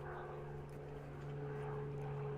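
Steady drone of an aerobatic propeller plane flying safety rolls and warm-up figures at a British aerobatics championship, a constant engine hum with a firm tonal whine, moderately distant and unbroken, no talk.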